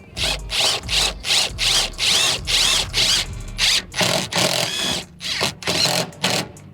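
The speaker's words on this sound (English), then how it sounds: "Never thought the day would come where I casually drill into carbon fiber" A power drill bores into a carbon fiber car body panel during a custom car build, whining in repeated close, loud bursts of about half a second with short pauses between them.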